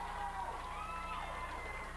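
A crowd at a 1988 Portland professional wrestling match makes a distant, steady roar of cheering and shouting, faint and continuous for the whole moment.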